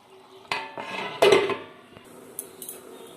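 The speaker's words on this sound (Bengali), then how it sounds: "এরপর আমি 2 মিনিটের জন্য এটা ঢাকনা দিয়ে রেখে দেব।" A lid goes onto a pan while cooking prawn malai curry: a close metallic clatter and scrape of cookware, a couple of louder knocks, then quieter light clinks and a faint background hiss.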